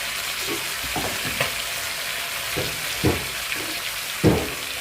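Onion fries in a pan alongside buffalo tongue for an Egyptian dish, giving a steady sizzle broken by several louder bumps and scrapes of stirring, with no talk.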